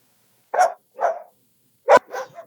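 Dogs barking inside an animal shelter, a few sharp separate barks with short pauses between them, close and fairly loud, with no talking.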